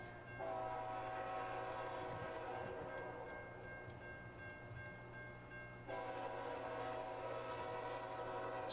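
A northbound freight train approaches in fog, its horn sounding in two long, blaring blasts separated by a short gap over the steady rumble of the train.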